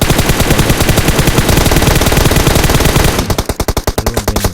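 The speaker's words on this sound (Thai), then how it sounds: "ยิงช่วงข้างหน้ารถนะครับอย่าไปยิงตัวรถนะ" Rapid automatic gunfire from PUBG Mobile, a long loud continuous burst of shots that stops abruptly near the end, followed by a few fainter trailing shots, close and dominant with no talking.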